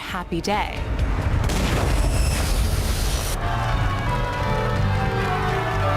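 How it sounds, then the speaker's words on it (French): A loud, deep bomb explosion at a wedding erupts with a sharp crack, then a sustained roaring rumble and debris noise that lingers and slowly settles. "Qu'est-ce qui a causé cette explosion?"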